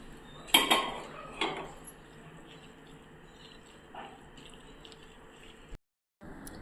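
Hot mustard-seed tempering poured from a small pan into raw mango chutney, giving a brief close metallic clink and sizzle at the start, then faint soft clatter and quiet kitchen noise.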